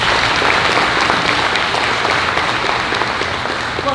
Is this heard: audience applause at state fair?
yes